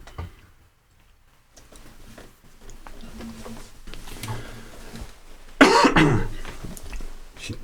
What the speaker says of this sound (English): See, I need to mute the microphone when I cough.